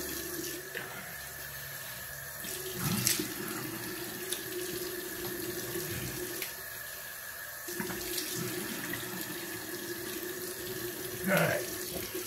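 Cold tap water runs steadily into a sink for rinsing after a straight razor shave, splashing and rinsing with a few louder gushes, no talking.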